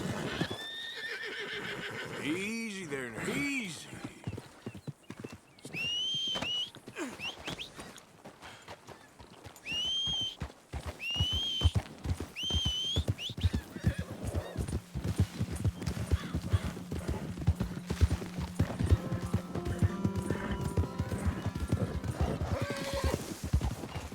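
In Red Dead Redemption 2, a horse whinnies several times with high, wavering calls, then hooves clip-clop in a steady walking rhythm; someone speaks softly near the start.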